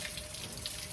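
A garden hose sprays water in a steady, close hiss that runs unbroken through the short moment, with no voices over it.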